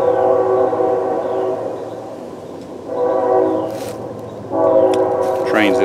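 A train passing through woods about a quarter mile away, sounding its horn in three long chorded blasts with pauses between, steady and moderately loud over rumbling rail noise, with someone talking at times.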